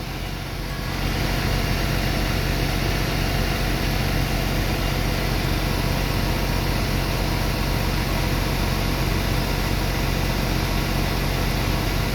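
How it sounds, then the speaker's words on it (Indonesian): A Mercedes Axor truck's diesel engine is held at raised revs, producing a loud, steady, close drone that settles in after the first second and holds without change. "Sengaja kita panteng RPM gasnya, dia naik ngeblok atau seperti apa juga nggak tahu nih teman-teman"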